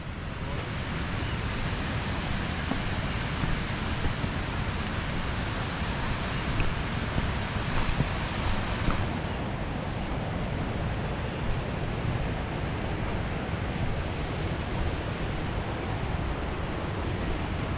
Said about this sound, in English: this here is several waterfalls coming down in all separate areas